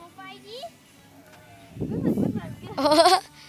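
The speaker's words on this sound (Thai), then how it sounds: "นั่นไงแกะไปดูแกะกัน" Sheep bleat on a Montana sheep farm, with a wavering cry near the start and a louder, nearby quavering bleat at the end, while people talk in between.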